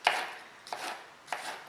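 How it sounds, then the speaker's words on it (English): A knife chops a capsicum lengthways on a board, three crisp cuts spaced evenly apart, close and clear with no talking. "Chop it lengthways,"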